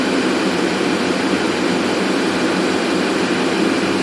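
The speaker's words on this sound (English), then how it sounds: "the truck is just idling in park" A 2009 Chevrolet Silverado HD pickup with an Allison transmission idles in park, giving a steady, continuous engine drone with a broad even hum that holds level for the whole stretch, with no talk over it.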